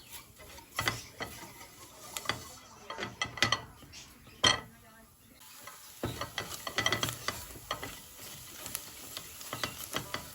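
Flour being toasted and stirred in a pot for turmeric lentil soup, with irregular scraping and clinking of the utensil against the pot, sharp clatters scattered over a low sizzle.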